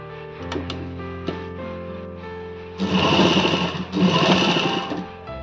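A sewing machine runs in two sustained loud bursts while stitching a bra-cut blouse from one end to the other, after a few quieter clicks and handling taps at the start.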